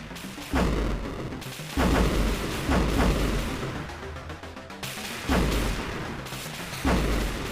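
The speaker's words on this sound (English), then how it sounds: "Is it blowing up some of the asteroids to make them smaller to hit you?" Asteroids blowing apart in the VR space shooter RAV Asteroids: loud, booming blasts land roughly every second or two over a low rumbling game backdrop, with no voices.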